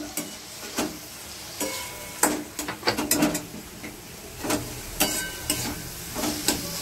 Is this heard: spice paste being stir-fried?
yes